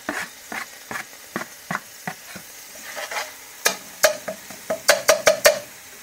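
Garlic and ginger stirred and fried in oil in a pan, a steady sizzle under repeated close scraping strokes of a spoon, quickening into a run of rhythmic knocks toward the end.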